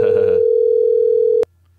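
A steady telephone line tone rings out loud and alone during a call nobody answers, with a brief burst of background chatter at the start before it cuts off abruptly.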